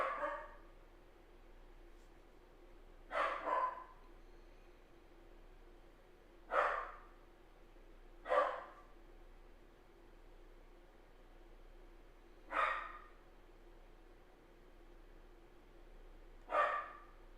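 A dog barks in short single bursts, about six spaced a few seconds apart over a steady background hiss, fairly distant and moderate in loudness, with no talk.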